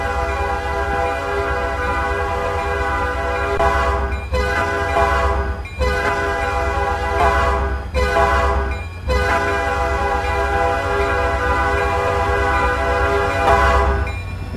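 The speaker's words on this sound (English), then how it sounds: "the train is now moving a little bit slowly" An RO-scale model train on the B&LC Horsethief route, running from Summit Yard to Garibaldi Yard, holds a loud, sustained horn with brief breaks, over a constant low rumble of the moving train.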